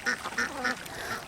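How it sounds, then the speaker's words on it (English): A duck quacks four times in a steady, evenly spaced series, each call bright and nasal, fairly close and clear with no voices over it. "he had an altercation with a duck."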